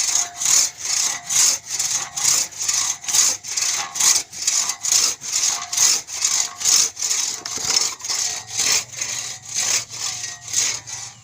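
A hand saw cuts through wood in steady back-and-forth strokes, a loud rhythmic rasp repeating about twice a second without pause.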